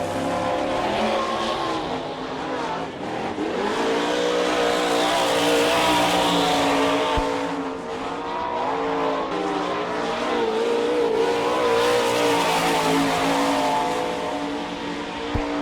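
Sprint cars lap a dirt speedway at the All Star Circuit of Champions Bauman Memorial in Sarver, Pennsylvania, a loud continuous roar of engines that swells and fades as the cars sweep past, with no talk.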